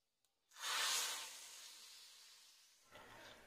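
Mustard seeds and curry leaves hit hot coconut oil for a Thalassery fish curry, bursting into a loud, close hiss and sputter that slowly fades, then flares briefly again near the end.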